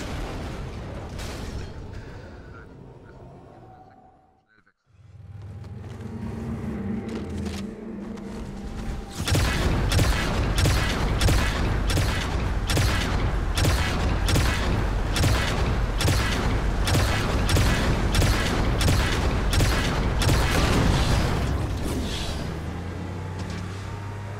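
A loud, sustained barrage of rapid explosive rocket launcher shots and booms in Halo 2 fills the scene after a brief lull, continuous and dense like heavy weapon fire.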